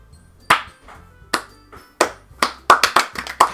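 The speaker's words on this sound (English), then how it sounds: "I'm about to start applauding." Scattered claps in Doki Doki Literature Club Plus grow into group applause: a few sharp separate hand claps at first, then a quicker, denser run of claps near the end, with no talk.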